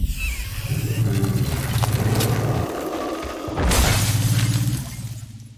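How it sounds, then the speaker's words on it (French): Frozen allosaurus body shattering and exploding, a loud sustained crash of breaking and rumbling debris that swells again near the end before fading, with no voices. "Le corps de l'allosaure gelé explose"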